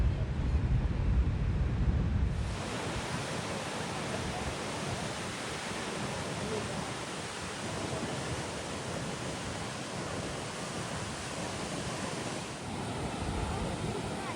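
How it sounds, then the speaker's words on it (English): Roaring broadband rush of the American Falls at Niagara Falls on the USA side, a steady loud wash of falling water with wind buffeting the microphone, heavier low rumble in the first two seconds, no talking. "So that falls you are seeing over there is American Falls"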